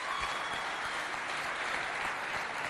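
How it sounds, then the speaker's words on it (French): A school audience at a lycée competition event applauds in a continuous, even wash of many hands, fairly distant and moderate in level, with no pauses. "Applaudissez pour tous ses rêves"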